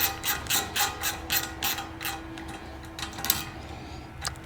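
A hand ratchet clicks in quick bursts while tightening hardware on a roof rack load bar on a Land Cruiser 200 Series, each burst a crisp run of ticks with short pauses between, close and clear with no talking.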